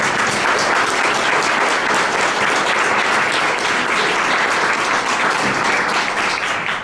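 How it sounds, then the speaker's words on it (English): A dense, loud round of applause from an audience at a neighborhood awards ceremony in Sioux Falls, sustained evenly for several seconds without a break. "Would you just mind just giving them a round of applause?"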